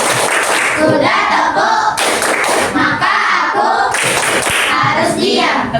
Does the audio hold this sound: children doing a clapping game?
yes